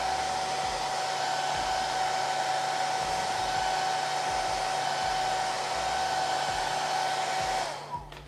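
An airbrush sprays during break-in testing, giving a continuous hissing airflow with a steady whine and faint low pulsing from the compressor, running unbroken for about seven and a half seconds before cutting off.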